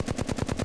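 Rapid automatic Flatline rifle fire in Apex Legends, a dense, evenly spaced burst of about eight loud, punchy shots in under a second, with no talk.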